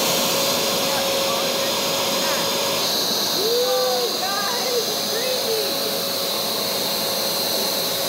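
A carpet cleaner steadily sucks dirty water out of a chair with a constant loud whooshing hiss, while people talk over it.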